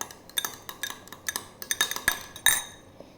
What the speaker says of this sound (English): This is the egg we are gonna mix.